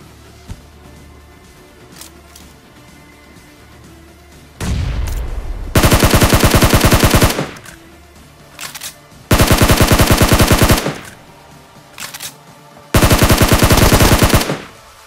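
Automatic gunfire in a battle royale video game, heard as three long, loud, sustained bursts with shorter scattered shots between them, close and dominant, with no speech.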